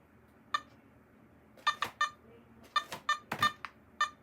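Metal detector sounding off over iron buried in a field, giving a run of short, sharp electronic beeps at irregular intervals, fairly close and standing alone over faint background hiss.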